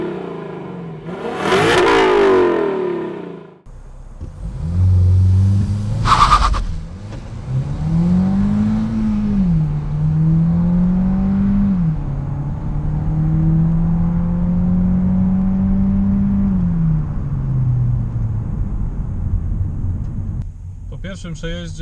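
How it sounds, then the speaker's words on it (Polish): A Volkswagen Golf 1.5 eTSI mild hybrid with a 150 hp engine and a DSG gearbox launching from a standstill toward 100 km/h. The close, loud engine drone climbs and drops through several gear changes after a short burst of noise at the start. "Dzisiaj sprawdzimy, jak ten samochód przyspiesza ze startu zatrzymanego"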